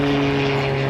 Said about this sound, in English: underneath some planes, so I think we'll hear them again on the video